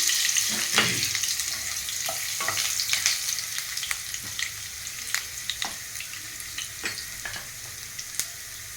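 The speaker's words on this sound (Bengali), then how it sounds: "আর গোটা গরম মশলা একটু ভেজে এবারে আদা কুচিগুলো দিয়ে দিলাম" Whole garam masala, dried red chillies and chopped ginger frying in oil in a pan for a vegetarian paneer dish, an even sizzle punctuated by frequent ladle taps and scrapes, close and without speech.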